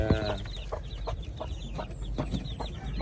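Hen and stag chickens of a Tagalog breed clucking in a coop: a series of short, close clucks and soft squawks over a steady low background hum, no talk.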